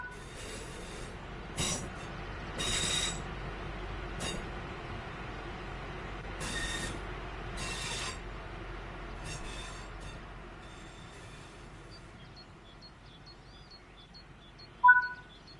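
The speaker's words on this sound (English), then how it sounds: "Now that you've moved down the track, it's time to bring the train to a stop." A train brakes to a stop in a train simulator video game, with a low steady rumble under intermittent higher hissing bursts, fading to a faint squeal and ending with a single sharp clunk.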